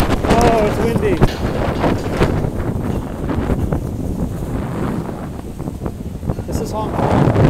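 Strong typhoon gusts sweep a Hong Kong waterfront in a continuous loud rush against the microphone, while someone speaks intermittently beneath the wind.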